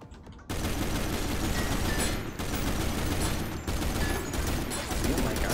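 Heavy assault rifle firing continuously in the video game Synthetik, a loud rapid stream of shots after a short quiet start, with brief breaks between long bursts.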